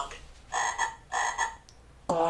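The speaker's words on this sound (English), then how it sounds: "Frog." A frog croaks in two paired bursts of raspy, pulsing calls, close and fairly loud, with a short tonal sound at the very end.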